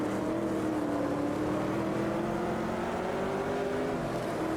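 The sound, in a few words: racing car engine in Automobilista 2 video game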